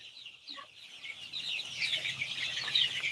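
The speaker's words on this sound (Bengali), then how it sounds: "ডিম পাড়ার উপযুক্ত মিশরীয় ফার্মি মুরগি" Egyptian Fayoumi chickens at a poultry farm cluck and call softly, several birds chattering over a quiet barnyard background with no speech.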